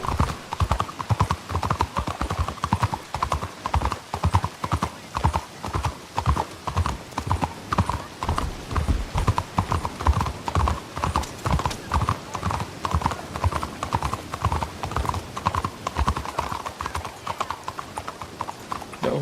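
Rhythmic clip-clop of horse hooves in a video game, trotting steadily throughout, loud and close, with no voices over it.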